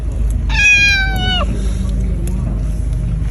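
A cat gives one drawn-out, clear meow while being fed kebab at a meal, standing out over a low steady background rumble before the scene falls quiet.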